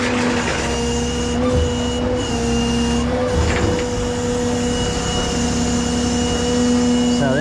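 Steady drone of a rollback flatbed tow truck idling while it is walked during loading of a car trailer, with air hissing and mechanical clunks over the constant engine hum.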